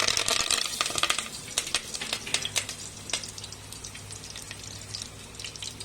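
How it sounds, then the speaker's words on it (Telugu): Coconut koftas frying in hot oil until golden, a dense crackling sizzle with scattered sharp pops, close and moderately quiet, with no talking. "అన్ని గోల్డ్ కలర్ వచ్చినంత వరకు వేయించుకోవాలి"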